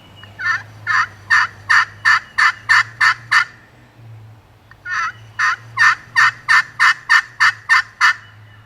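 Two runs of rapid yelping from a wooden friction turkey call, about nine sharp, somewhat muffled notes each, separated by a short pause, close and loud over a low background hum.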